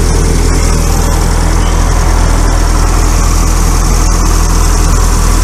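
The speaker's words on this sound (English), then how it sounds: "That is a sweet, sweet, sweet little engine." A 1971 Hillman Imp Super's small rear engine idles steadily, a low, even rumble with a faint mechanical whir, close by and continuous with no talking.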